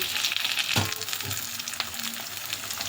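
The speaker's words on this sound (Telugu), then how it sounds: "కొంచెము జీలకర్ర ఆవాలు వేసుకుందాము కొంచెం కరివేపాకు వేద్దాము" Mustard seeds, cumin and curry leaves sizzle and crackle in hot oil for a taro curry, a close, busy fry with a sharp pop near the start and scattered spits after.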